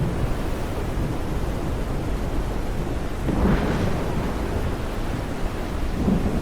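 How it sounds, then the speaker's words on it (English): The season's first rain falls steadily over the open savanna, a dense, even hiss that fills the space, while a soft roll of distant thunder swells briefly in the middle and no voices are heard. "The first rains of the season fall on the cracked earth, awakening life from the roots."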